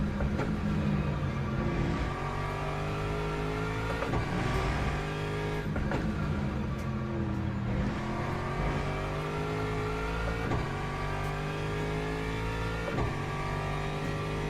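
A race car in the Le Mans Ultimate racing game drones steadily, its engine pitch rising and falling through repeated gear changes and revs, heard without any talking.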